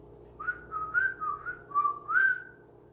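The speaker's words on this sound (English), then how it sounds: "some of us whistle" A person whistles a short, clear melody of about six sustained notes in a steady, unhurried rhythm, close and alone with no talk, ending in a longer held tone.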